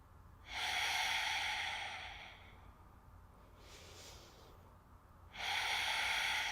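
Slow, deep breathing during a vinyasa yoga practice, with two long, loud inhales or exhales separated by a quieter, softer breath in between, close to the microphone and with no talk.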